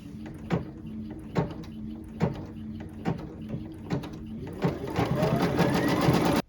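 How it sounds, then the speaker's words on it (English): An embroidery machine stitches the placement outline for an appliqué hat, its needle thumping in a steady repeating rhythm of close, regular bursts that quicken into a continuous run toward the end. "I'm going to stitch the next step, which is the placement step for the hat"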